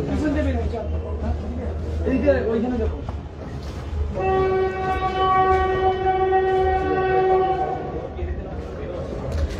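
The 36 July Express exhibition train at Dhaka University rumbles low and steady while its horn blares one long, loud blast midway; voices murmur near the start.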